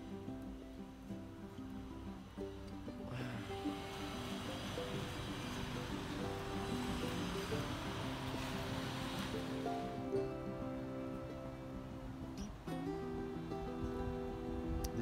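Ocean waves wash onto a beach in the Philippines, a continuous rushing surf that swells louder through the middle and then eases, mixed with some faint background tones and no speech.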